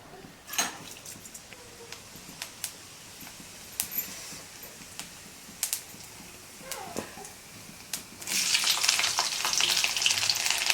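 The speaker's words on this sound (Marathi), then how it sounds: "तेल तापलं ना त्यात जिरे टाकायचे लसूण घेतलंय ठेचून पाच सहा" Cumin seeds and crushed garlic cloves hitting hot oil, a few scattered taps and clicks giving way to a loud, steady crackling sizzle in the last few seconds.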